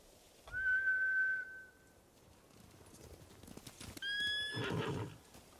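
In the video game Ghost of Tsushima, a horse whinnies loudly, then hooves clatter and a second, higher neigh rings out, with faint whistling over an outdoor background.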